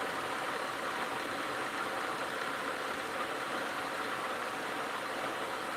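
An engine runs steadily at a low idle of about 1,030 RPM, a continuous even rumble with a faint knocking texture, close and moderately loud, with no voices.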